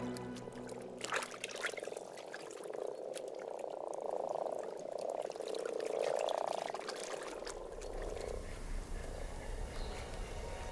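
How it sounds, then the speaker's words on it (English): A chorus of frogs croaks in a lake or reservoir in Germany's Harz region on a warm March day, a dense continuous purring trill swelling and fading, with water trickling. "Frogs awaken from hibernation with only one thing on their mind."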